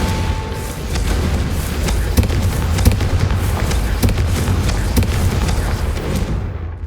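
Confringo fire spell blasts in the video game Hogwarts Legacy, a dense run of booming explosions with sharp crackling bursts repeating over several seconds, loud and close with no talk.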